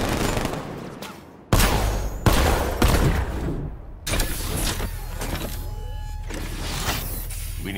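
Several heavy tank cannon blasts boom loudly in Batman: Arkham Knight, mixed with rapid gunfire and rumbling, metallic battle noise.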